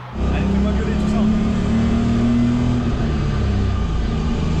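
A BMW E30 330i with a Rocket Bunny body kit revs its engine loudly and steadily, the roar sustained and close for several seconds as a voice speaks over it.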